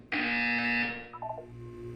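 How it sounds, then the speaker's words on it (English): Electronic buzzer from the Portal 2 video game sounds once as a loud, steady tone that cuts off after about a second, followed by a faint fading tail over quiet background hum. "You will hear a buzzer."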